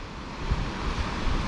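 Ocean water surging into the rock chamber of the Kiama Blowhole on the coast, a brief, loud, rushing wash mixed with buffeting wind noise.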